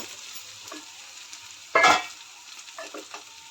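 Onions and ginger paste frying in a pan give a soft, steady sizzle, broken by a sharp burst of stirring scrape midway and a few lighter stirring touches afterward, close and without talk.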